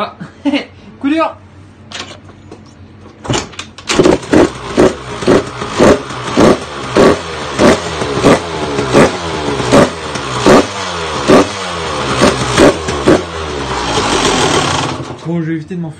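Restored Yamaha YZ 125 dirt bike, a two-stroke, kicked over a few times and then running with a rapid, loud pulsing idle and blips of revving, close by.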